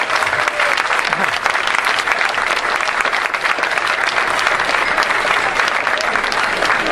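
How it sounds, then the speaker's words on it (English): Wedding guests give the best man a big round of applause, dense and loud clapping that holds steady for the whole stretch with a murmur of crowd underneath. "Ladies and gentlemen, another big round of applause for the best man,"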